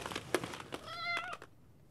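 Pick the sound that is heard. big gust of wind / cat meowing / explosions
cat meowing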